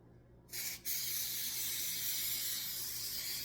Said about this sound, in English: we're going to want to spray a little bit of cooking spray on it